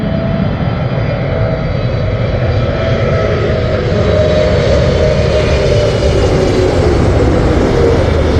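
British Airways Boeing 777 landing at Heathrow, a steady, fairly loud engine roar and rushing air holding constant throughout as the airliner passes close by.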